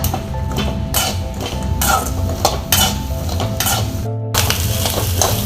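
Onion, grated coconut and curry leaves sauté in a pan for an egg masala gravy. A busy sizzle is broken by repeated spoon scrapes and stirring strokes at an uneven rhythm, close and fairly loud, with no talking.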